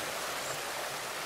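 Steady, broad rush of flowing river water, a continuous even hiss with no breaks, moderately loud and without voices.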